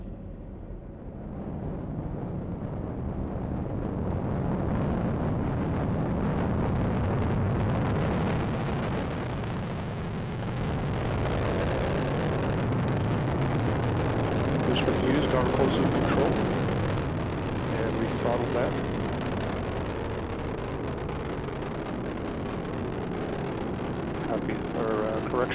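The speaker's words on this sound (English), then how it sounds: "Booster engine continues to perform well" Rocket booster engine roaring during the launch of the Radiation Belt Storm Probes, a deep continuous rumble heard from a distance, steady and broad with slight swells, with faint voice traces over it.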